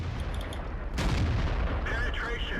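A tank gun firing in World of Tanks, an AT 8 tank destroyer, lands a single heavy boom with a rumbling tail over steady engine drone, while someone talks over the game sound.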